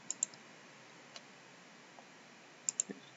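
A computer mouse gives a few crisp, quiet clicks near at hand. They come as a quick pair at the start, one or two isolated clicks in the middle and another double click near the end, over a faint hum.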